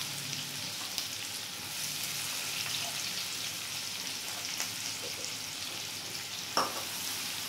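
Chopped onions fry in oil and ghee until golden brown for egg korma, a soft, even sizzling hiss lasting throughout with occasional faint stirring scrapes and a knock near the end, no voices.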